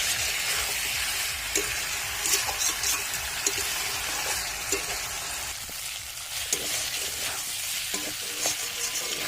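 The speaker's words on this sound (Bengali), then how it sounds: "যত বেশি মাংস কষানো হবে তত বেশি মাংসের টেস্ট বাড়ে।" Meat is stir-fried in oil for a home-cooked meat curry, giving a continuous close sizzle broken by frequent scraping stirs and light clinks from start to finish.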